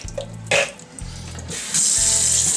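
Tap water runs into a kitchen sink while beans are rinsed out of a pot for vegetarian chili, a steady close splashing rush that swells louder toward the end, with a few low gurgles and knocks.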